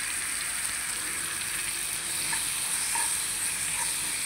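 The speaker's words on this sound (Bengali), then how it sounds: "পেঁয়াজটাকে ভালোভাবে মজিয়ে নিব" Chopped onions sizzle and crackle in hot oil for a Bengali fish roast, with a steady bright hiss and occasional stirring scrapes, close and continuous with no talking.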